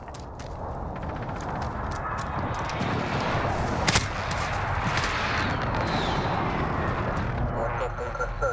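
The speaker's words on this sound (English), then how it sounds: "Friendly precision airstrike inbound." A precision airstrike lands in Call of Duty Modern Warfare, a loud, sustained rumbling roar of explosions with a sharp blast near the middle, and game voice chatter underneath.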